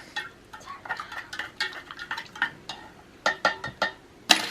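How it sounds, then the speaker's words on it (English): A metal knife stirs a milky drink from a German field ration in a cup, a quick series of light clinks and scrapes that grows brisker, ending in one sharp louder tap. "So we'll give this a stir with a knife."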